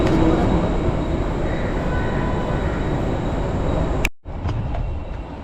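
A Mumbai local train rumbles in a loud, continuous roar of wheels and carriage noise, briefly cutting out before resuming.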